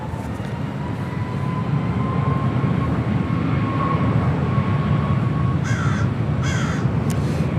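A Southwest airliner taking off from runway 24 left at Los Angeles International Airport: a steady, broad jet roar at a distance, with a few crow caws cutting in near the end.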